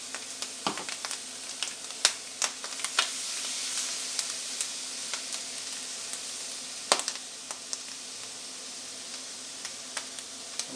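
Cooked beans hitting a hot pan with vegetables give a steady soft sizzle, broken by occasional sharp pops and crackles scattered through, moderately quiet and with no talking.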